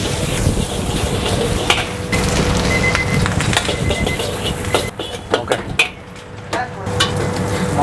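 A metal spatula stirs and scrapes fried rice mixed with soft pulen rice in a pan, steady scraping with a low sizzle and sharper clanks toward the end.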